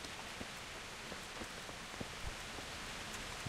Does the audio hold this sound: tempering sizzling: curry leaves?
no